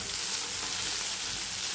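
Garlic butter chicken pieces fry in a hot pan and are turned over, giving a loud, continuous close-up sizzle with a faint scrape of stirring and no voices.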